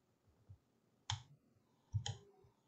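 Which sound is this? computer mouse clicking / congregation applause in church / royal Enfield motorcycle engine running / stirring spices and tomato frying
computer mouse clicking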